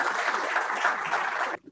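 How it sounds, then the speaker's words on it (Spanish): An audience applauds to welcome a speaker at a technical presentation on cadmium in cacao, a steady wash of many hands clapping for about a second and a half before cutting off abruptly. "Demos la bienvenida con un fuerte aplauso, por favor, a don Luis."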